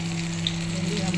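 Eggplant slices frying in hot oil for Bengali begun bhaja give a brief, steady, close sizzle under a constant low hum.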